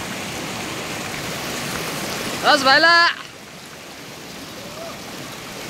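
A river flows steadily at a riverside market spot, a constant broadband rush of water under everything, with a brief burst of a man's speech partway through.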